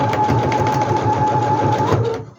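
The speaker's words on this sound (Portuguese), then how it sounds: "e passo uma costura de uma extremidade à outra" A sewing machine stitches a seam across a geometric-print fabric bag, running in a fast even mechanical patter for about two seconds before stopping abruptly.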